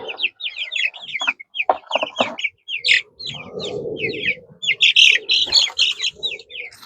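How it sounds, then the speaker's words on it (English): Meat-bird chicks, five in a container, being moved outside to a chicken tractor, cheep and cluck close by in rapid, overlapping bursts, with a soft rustling scuffle in the middle. "I've got 5 chicks in here"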